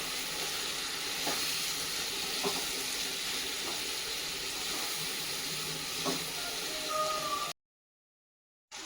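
Chicken frying in a pan with masala paste gives a steady, close sizzling hiss with soft occasional pops and stirring scrapes, running without talk before cutting off abruptly near the end.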